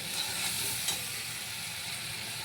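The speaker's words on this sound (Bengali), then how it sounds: "এবার মশলাটা ভালো করে কষাবো" A spice mix with turmeric and salt frying in a pan, giving a continuous soft hiss and sizzle with a few faint stirring scrapes, close but fairly quiet and without speech.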